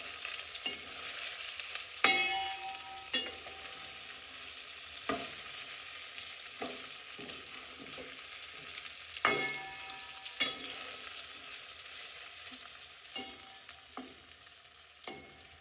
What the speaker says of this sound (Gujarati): હવે આપણે સારી રીતે એને મિક્સ કરીશું.